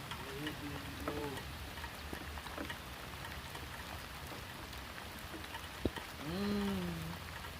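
Rain falling steadily during fishing at a floodgate, a soft even patter close by, with brief voice-like tones and a sharp knock partway through.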